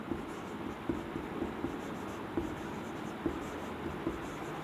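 Pen scratching on paper while drafting a reinforced concrete beam drawing, a steady rustling stroke pattern with small taps throughout, close and moderately loud with no talk.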